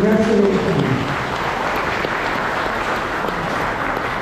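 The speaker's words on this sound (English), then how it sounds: "a big hand of applause." Wedding guests clap in a dense, steady burst of applause that holds at an even level throughout, briefly overlapping a voice at the start.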